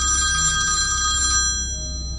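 A telephone rings with a bright, steady electronic trill in a quiet house late at night, sounding clearly and alone for just over a second before the tone stops and a faint hum remains.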